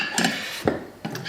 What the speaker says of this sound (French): Moi je vais mélanger l'ail et l'oignon.